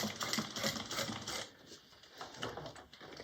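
A sewing machine stitching a back stitch on a fabric bag, a fast rhythmic mechanical chatter close up that eases and slows midway before a few more short runs of stitching.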